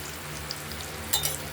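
Paneer pieces frying in a pan for posto paneer bhapa, giving a soft, steady sizzle with a few faint crackles and a brief louder spatter near the end; quiet and close, with no talking.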